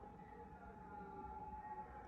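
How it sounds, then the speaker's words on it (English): Distant police or ambulance sirens at night in Yokohama, a steady faint wail held low under a constant urban rumble, with no nearby voices. "I think I hear sirens from police, from ambulance."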